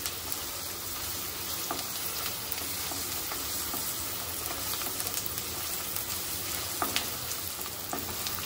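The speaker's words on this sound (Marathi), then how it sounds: "कांदा शिजवून घेते थोडासा" Onion and green chillies fry in a pan, giving a steady, fairly quiet crackling sizzle with occasional stirring scrapes, and no voices.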